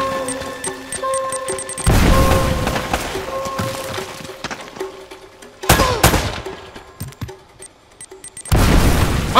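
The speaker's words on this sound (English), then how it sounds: "Oh, we got a grenade behind us!" Grenade blasts and gunfire in Uncharted: Drake's Fortune, several loud booming bursts with crackling debris and shots between them, separated by quieter game ambience.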